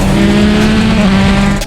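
A 1,200 all-wheel-horsepower Nissan GT-R racing Travis Pastrana's Gymkhana 2020 Subaru STI, one loud, steady engine drone holding a sustained tone close by for the whole moment before cutting off abruptly.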